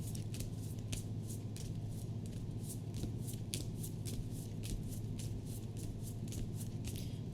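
Repeated crisp riffling bursts of a deck of cards being shuffled, a steady rhythm of short flutters close to the mic, with no voices.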